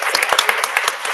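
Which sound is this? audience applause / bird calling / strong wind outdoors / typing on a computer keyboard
audience applause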